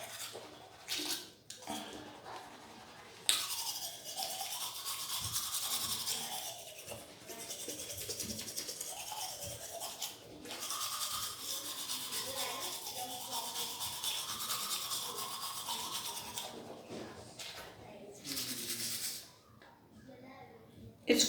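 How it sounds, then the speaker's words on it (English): Teeth being brushed with a toothbrush, a close, continuous wet scrubbing that rises and falls in rhythmic strokes for most of the stretch, with a brief pause near the end. "let me brush my teeth like I used to brush on a regular day"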